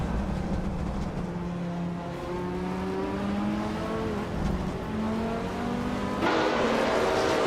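A Mazda RX-7 race car engine in a racing video game drones steadily and loudly, its pitch rising and falling as the car accelerates and shifts, with other engines mixed in and no talking.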